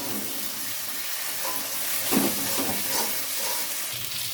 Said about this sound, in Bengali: মশলাটা বেশ ভালো করে কষিয়ে নেব, আর মশলা থেকে তেল ছেড়ে আসলে তারপর মশলাটা কিন্তু দেখো নাড়িয়ে চাড়িয়ে খুব ভালো করে আমি কষিয়ে নিচ্ছি।